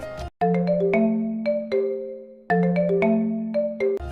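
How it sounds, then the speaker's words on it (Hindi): A melodic electronic phone ringtone plays a repeating tune of clear tones, cycling through the phrase about twice, loud and close with no talking. "तुम्हारा फोन बज रहा है।"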